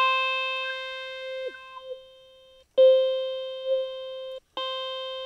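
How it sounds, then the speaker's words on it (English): An electronic synthesizer oscillator in Reason's Thor runs through a formant filter, giving a steady, buzzy, vowel-like sustained tone with small wobbles and two short gaps where it cuts out and restarts. "So that's a classic format filter sound."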